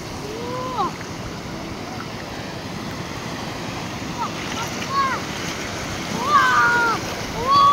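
Sea waves wash onto a beach in a continuous broad surf roar, swelling slightly toward the end, with wind rumble on the microphone and occasional faint voices and calls nearby.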